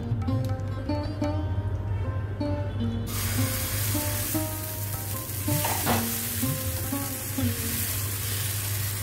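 Amboli batter of rice flour and salt sizzles and crackles on a hot frying pan over a high gas flame, a steady frying hiss with stirring or spreading sounds, close and continuous with no talk.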